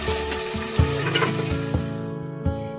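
Already fried potatoes, peas and capsicum tipped into a hot pan, sizzling steadily up close with repeated tonal scrapes of a spatula against the metal, fading toward the end, no speech.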